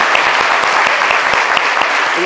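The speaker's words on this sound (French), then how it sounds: "J'aimerais qu'on applaudisse très très fort pour vous et les femmes" A television studio audience applauds loudly and steadily, dense clapping filling the whole moment without pause.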